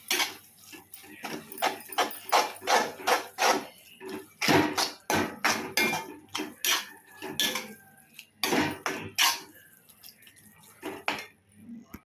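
A metal spoon scrapes and clanks in a metal pan while stirring a roadside-style mushroom dish with coriander, rhythmic loud strokes with short pauses, close up and without talk.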